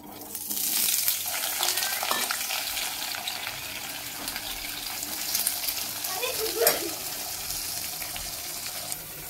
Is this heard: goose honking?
no